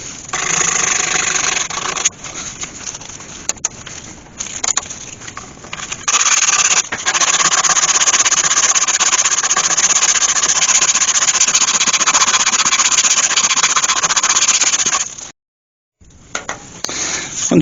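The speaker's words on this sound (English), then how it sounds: "you sand both sides, top and bottom, all in one go" Sandpaper pressed against a spinning wooden turning on a lathe, giving a steady loud whirring hum with a gritty scraping edge, pausing briefly near the end before starting again.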